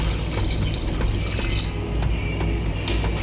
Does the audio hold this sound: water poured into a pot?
yes